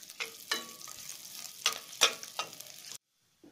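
Onions fry in oil with cumin for a paneer dish while a spoon stirs them, giving a soft sizzle broken by scraping strokes and taps against the pan, then sudden silence.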